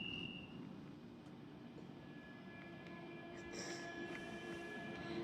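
A Central Line underground train in the OpenBVE simulator game runs along with a steady low rumble and faint rail squeal, heard from inside the carriage with a constant, even loudness.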